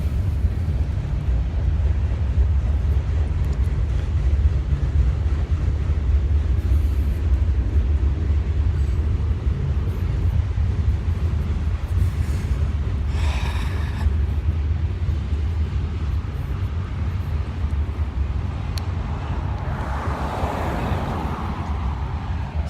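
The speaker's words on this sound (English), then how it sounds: "the train sound over there is too loud" A train passes outside as a continuous low rumble and roar that holds steady throughout, with occasional faint clanks and a brief swelling hiss near the end.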